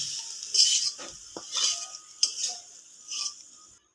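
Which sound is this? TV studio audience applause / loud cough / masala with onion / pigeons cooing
masala with onion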